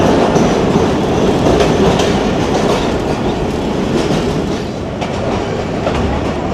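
Kohat Express passenger train runs between Rawalpindi and Kohat, a loud continuous rumble of wheels on rails with rhythmic clickety-clack heard from inside the moving carriage, no speech.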